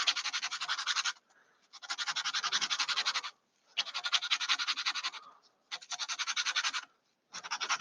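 Sandpaper rubbed against the end of a homemade rocket, rhythmic rasping strokes in steady bursts of about a second, separated by short pauses, close and fairly loud.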